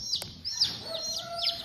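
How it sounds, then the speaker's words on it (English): Young chicks, two yellow and two black, peeping in quick high chirps, several short calls in a row, close and fairly faint with no talking. "I bought four chickens, man."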